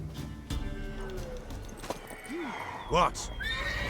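A mare's whinny rings out with hoof clip-clops in The Witcher 3, set in a noisy scene with game music. A voice speaks briefly, and a clear whinny arches up near the middle.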